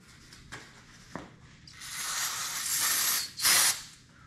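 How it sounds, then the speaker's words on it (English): An aerosol can of brake cleaner sprays onto a paper towel in hissing bursts: a long sustained spray, a brief pause, then a louder short blast, preceded by a couple of faint clicks. "spray a little bit of brake clean on it."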